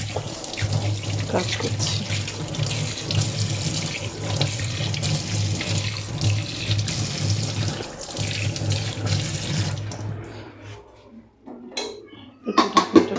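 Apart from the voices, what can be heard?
tap water running while washing hands with soap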